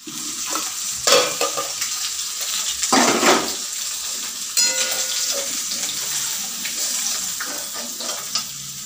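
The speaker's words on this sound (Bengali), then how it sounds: "মাছের মাথা ভেঙে দিয়ে ভাজলাম" Broken-up fish heads fry in hot oil with a steady, crackling sizzle, broken by a few louder bursts as the pieces are stirred and turned in the pan.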